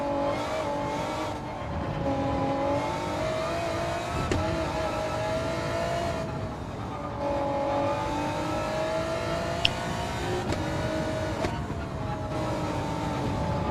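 Race cars in a racing video game accelerating hard, engines rising and falling through repeated revving sweeps with brief tire squeal, loud and continuous with no one talking.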